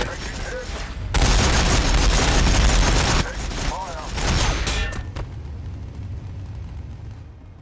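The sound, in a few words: gunfire from Warhammer video game units firing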